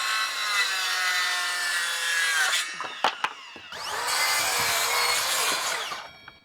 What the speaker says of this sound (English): start the saw, and then finish cutting